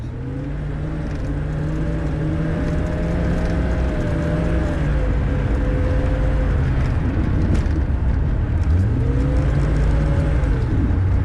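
A car on studded tires drifts across ice, its engine droning loud and close with rising and falling revs and the hum of spinning wheels, continuous and with no talk over it.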